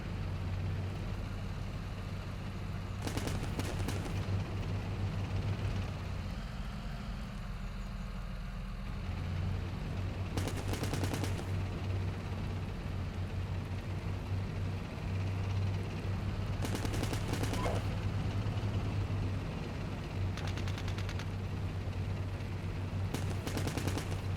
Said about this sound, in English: So the artillery has started dropping on that